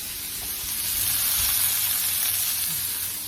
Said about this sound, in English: And then I'm cooking that.